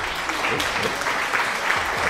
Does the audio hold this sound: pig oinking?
no